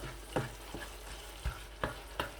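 Keema mutter fried over high heat in a pan, with a soft steady sizzle broken by several distinct scraping stirs of a spoon, close and fairly quiet.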